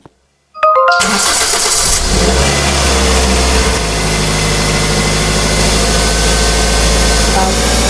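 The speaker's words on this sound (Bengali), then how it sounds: "গাড়িতে করে দুমদাম করে যাবো গা।" A video game car engine roars to life after a brief quiet moment, then revs steadily and loudly, sustained throughout with a deep continuous rumble.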